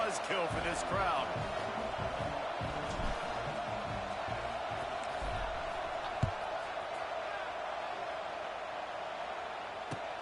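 Stadium crowd at a college football kickoff in NCAA 25: a broad, steady roar of many voices filling the background, with a commentator talking over it and a sharp thud partway through.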